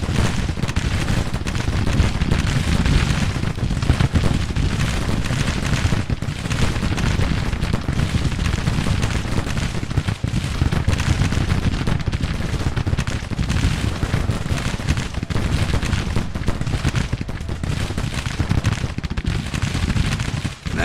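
Continuous roar of Civil War artillery and canister fire in Grand Tactician: The Civil War, a dense, loud battlefield din of booms and crackling volleys with no pause.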